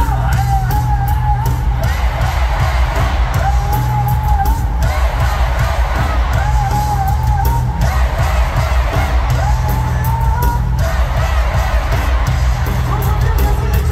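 Half of a packed concert audience in Singapore shouts and yells in unison, a loud sustained roar with rhythmic swells, chant-like bursts rising and falling throughout.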